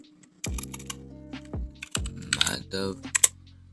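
Keys clack on a computer keyboard as code is typed for a Unity project, a few separate taps and short runs, close up with a low hum and some background noise.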